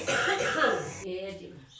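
A rough, forceful cough bursts out at close range, followed by a person speaking.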